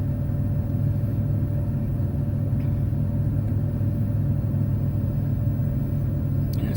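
A 1989 car's engine idles steadily while still cold, a constant low rumble with a faint whine running throughout and no talking.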